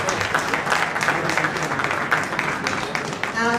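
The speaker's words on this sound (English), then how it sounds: "give them a round of applause" Banquet audience applauding at a reception venue, steady dense clapping throughout with a voice talking over it.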